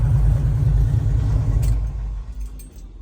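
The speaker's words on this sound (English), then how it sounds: "I'm gonna go ahead and turn this car off" A 1969 Chevrolet Nova with Yenko styling idles with a loud, close, low rumble that fades and drops away as the engine is switched off, leaving a quieter tail with faint small clicks.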